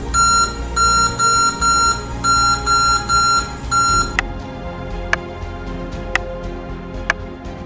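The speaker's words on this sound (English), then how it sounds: "There will be beeps and nothing on the screen." An MSI Titan GT77 HX laptop with its RAM removed emits repeated high electronic beeps in regular bursts, then switches to single sharp clicks spaced about a second apart, with no talk.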